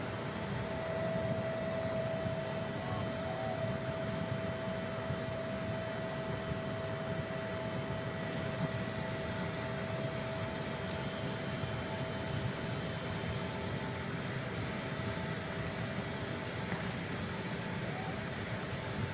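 A state aircraft idles on the apron at Halim Perdanakusuma airport in Jakarta before take-off, its engines giving a steady, continuous roar with a faint high whine throughout.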